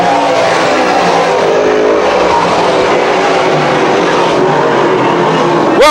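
Modified race cars racing at Can-Am Speedway, a dense loud roar of several engines down the front stretch, steady and close with a brief flare at the end.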